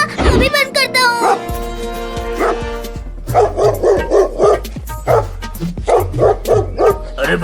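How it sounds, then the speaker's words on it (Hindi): Dogs bark and yip repeatedly in quick bursts, loud and close, with whimpering mixed in at the start. "अब भौंकना बंद करो और जल्दी चलो"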